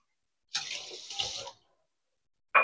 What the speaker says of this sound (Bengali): 2 কাপ চিনি। একটা শিরা তৈরি হবে। দু কাপ জল,